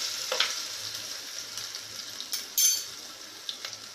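Cumin seeds and chopped ginger frying in hot oil for whole masoor dal, a bright crackling sizzle that flares with a louder burst partway through, close with scattered pops and no talk.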